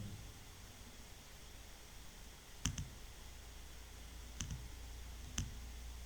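Computer mouse clicks while selecting spreadsheet cells, sharp faint ticks: a quick double click near 2.7 s, another near 4.4 s and a single click near 5.4 s, over a steady background hiss with no talking.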